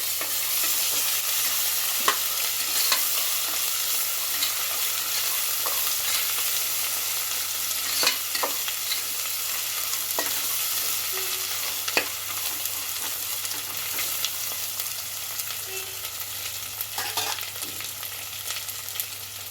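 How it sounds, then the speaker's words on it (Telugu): Turmeric and ginger-garlic paste are stirred in a frying pan, with a continuous soft sizzle and occasional spoon clicks and scrapes close by, and no one speaking. "కొంచెం పసుపు వేస్తున్నా ఒక స్పూన్ అల్లం వెల్లుల్లి పేస్ట్ అండి టేస్ట్ బాగుంటుంది ఇప్పుడు కలుపుకోవాలి"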